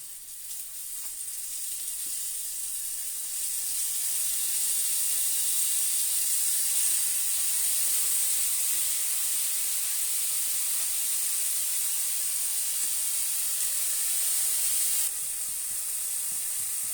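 Bombay duck fish marinated in salt and turmeric and coated in rice flour fry in hot oil, a loud, continuous, close sizzling hiss that holds steady for the whole stretch, with no talk.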